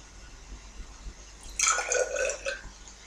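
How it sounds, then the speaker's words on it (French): Mineral water poured into a homemade leave-in hair lotion, a short close trickle and splash lasting about a second after quiet handling noises. "Je vais rajouter 10 ml d'eau."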